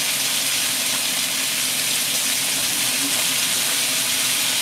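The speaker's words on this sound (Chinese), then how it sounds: "煎到佢一邊金黃，就反轉再煎多邊金黃" Chicken pan-fries in a wok, giving a continuous loud, even sizzling hiss throughout with no voices.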